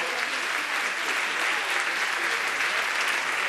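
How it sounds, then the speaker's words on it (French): Steady, dense applause from an audience at the Miss Guyane 2018 pageant, loud and continuous throughout with no gaps, broad crowd clapping filling the hall. "Voilà, applaudissez bien fort."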